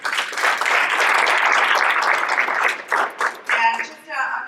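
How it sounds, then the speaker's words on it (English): An audience claps for sponsors at a 2019 development industry forum, with dense sustained applause that thins and breaks into scattered claps toward the end. "let's give another great round of applause to our sponsors, Applin & Martin and Harper Grey Llp"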